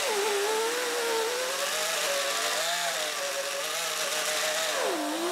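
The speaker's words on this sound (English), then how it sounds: "When you're buffing those outside edges and you have plastic binding, you do not want to pause when you're buffing." A power buffing tool is run along the plastic-bound edges of a Gibson guitar, giving a loud, continuous high whine whose pitch wavers and dips as the tool keeps moving.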